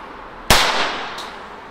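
A single sharp bang from a 15 mm pyrotechnic cartridge fired from a blank pistol, loud and close, followed by a decaying crackle and a couple of faint ticks.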